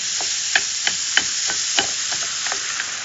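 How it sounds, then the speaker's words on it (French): Extra-lean ground beef browning in a non-stick pan, with a steady soft sizzle and occasional scraping stir clicks at irregular intervals, close and moderate in level. "Dans un poêlon antiadhésif, j'utilise du bœuf haché extra maigre et je vais la faire cuire jusqu'à ce que le rose ait bien disparu."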